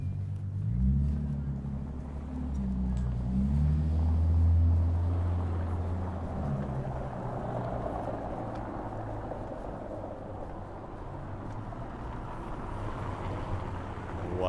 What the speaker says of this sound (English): Ooh, someone is driving Bentley.